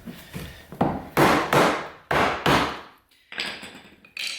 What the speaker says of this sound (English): I'm just going to use a pry bar and a hammer.